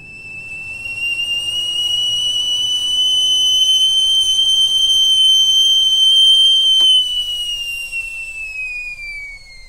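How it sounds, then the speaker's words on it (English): A kettle whistles shrilly and loudly, holding a steady piercing tone for several seconds before cutting off, with no voices around it. "it was just the whistle of a kettle"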